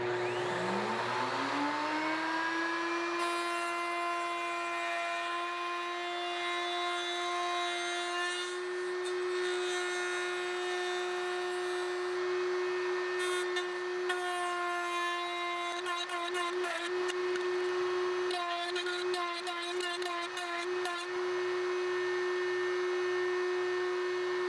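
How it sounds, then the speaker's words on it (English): Power saw cutting tenons on the ends of wooden garden gate boards, a sustained high whine that spins up and holds steady, with rougher bursts of cutting noise near the end and no talk. "to cut the tenons on the end of the boards"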